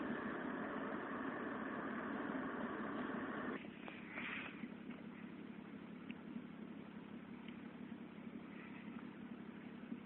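A car engine idles low and steady at an Illinois traffic stop. Its hum is stronger at first, then quieter and more muffled after a few seconds, with no talking.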